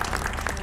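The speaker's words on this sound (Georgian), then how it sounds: "და აპლოდისმენტები პატრიარქის ნათულებს" An audience applauds a children's choir at a televised program, a brief burst of dense, steady clapping, close and full, with no talk over it.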